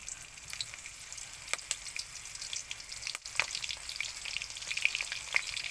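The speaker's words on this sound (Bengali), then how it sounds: "এবার এতেই আমি সেই কড়াই আমি বেগুন বসাবো।" Oil sizzles steadily in a wok close by as eggplant fries, with occasional scraping and stirring sounds.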